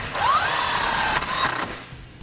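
A power drill whirs briefly as it drives a self-tapping grounding screw into the metal body of a 2011 Chrysler Town and Country, with a rising motor whine, a short stutter and then a spin-down, close and alone.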